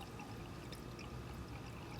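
Liquid gold refining solution is poured from watch-band processing into a large flask, a steady, faint, continuous pouring stream with no talk.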